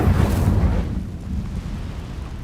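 Incendio fire spell cast in Hogwarts Legacy, a loud low rumbling whoosh of flame bursting out at first and then settling into a steady roaring crackle.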